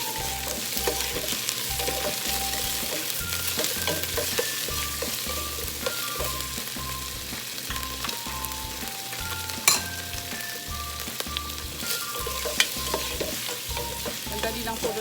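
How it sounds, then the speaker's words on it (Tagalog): Shrimp frying in a pan for a shrimp and broccoli dish in oyster sauce, giving a steady, close sizzle throughout with a few sharp clinks of stirring on top and no talking. "Tapos ilalagay po natin yung ating shrimp."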